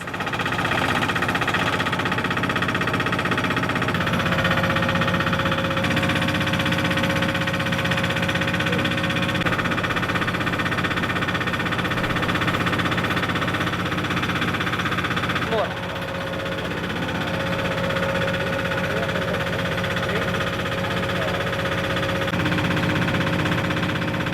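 A leaf-shredding machine processing pineapple leaves for fiber runs steadily with a loud, continuous engine drone and vibration, holding level throughout with a brief dip partway.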